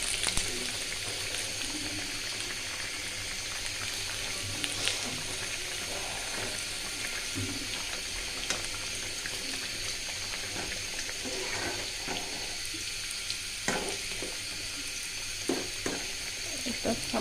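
A potato curry simmers and sizzles in a pan and gets stirred, giving a steady frying hiss with scattered scraping and clinking of the spoon, close and continuous.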